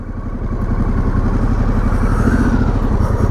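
A Harley-Davidson Pan America motorcycle rides on its first outing, its engine giving a loud, close, pulsing throb that builds slightly and then holds steady, alone with no voices.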